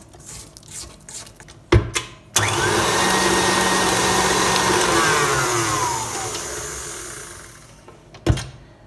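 An electric mixer beats peanut butter cookie dough in a bowl, a loud steady motor whine running for several seconds between brief handling knocks, then cutting off.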